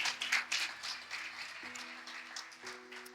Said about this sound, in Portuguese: E dê um aplauso bem forte ao Senhor.